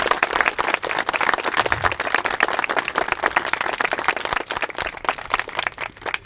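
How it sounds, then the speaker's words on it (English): Audience at an awards ceremony giving a sustained round of applause for the recipients, dense steady clapping from many hands that fills the room and carries on for several seconds. "Can I have a round of applause for our recipients?"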